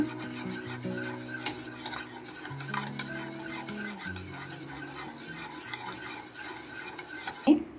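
Chili powder frying in a pan while being stirred for butter chicken, a steady scraping and rasping of a utensil against the pan over a soft sizzle, close and continuous, with a louder clatter near the end.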